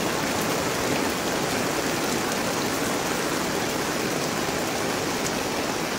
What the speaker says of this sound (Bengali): প্রচুর পরিমাণ চেপে চেপে বৃষ্টি হচ্ছে।